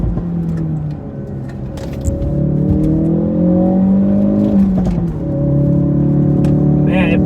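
A 2017 Ford Focus RS accelerates out of a hairpin, its engine rising loudly in pitch through the gears with a brief lift and a renewed pull, heard from inside the car.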